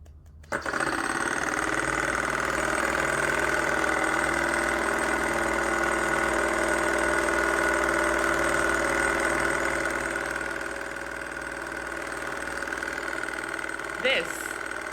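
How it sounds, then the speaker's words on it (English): A small flame-heated flywheel engine runs steadily and close by, giving a continuous mechanical whir with even rhythm that eases slightly toward the end. "This is a flywheel."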